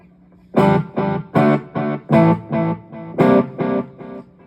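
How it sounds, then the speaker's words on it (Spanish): An electric guitar runs clean through a digital delay pedal, playing about nine evenly spaced, loud plucked notes with short trailing echoes between them. "un delay, como para que tenga más colita el sonido"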